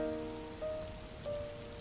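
Rain falls quietly in a soft, steady patter, with a faint tonal hum running underneath.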